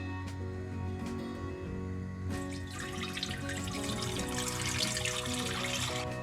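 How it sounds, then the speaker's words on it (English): 750 ml of cold water runs into a pot to make sugar syrup for homemade basil liqueur, a few faint drips and then a steady, splashing pour that grows fuller over the last few seconds. "Water in."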